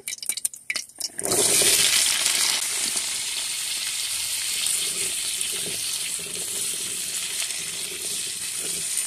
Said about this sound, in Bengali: এই তেলেই আমি আলুগুলো ভেজে নেব।